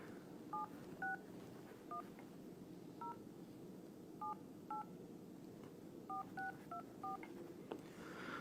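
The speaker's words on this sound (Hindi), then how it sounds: "ये नंबर डायल कर रहे हैं हम लोग" Keypad tones of a mobile phone number being dialed, about a dozen short beeps in uneven bursts over a steady background hum, with no talking.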